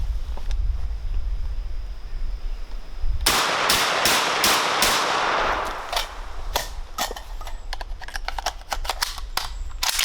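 An SAS-12 12-gauge shotgun fires double-aught buckshot in a loud, close string of roughly a dozen sharp blasts, a fast cluster early on and then more spaced shots, with some clattering of the action between them.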